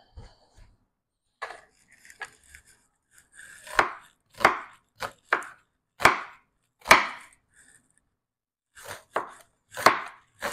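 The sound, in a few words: slicing onion with knife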